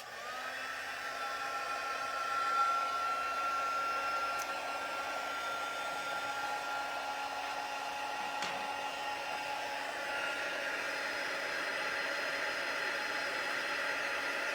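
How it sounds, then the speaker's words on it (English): A steady, loud whoosh of hot air blowing continuously from a heat tool, with a constant whine and no voices throughout. "I'm just going to use my heat tool"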